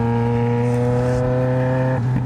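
A Yamaha XJ6 motorcycle engine revs steadily on a wet road after rain at night, loud and close, with a strong, even harmonic drone that dips slightly near the end.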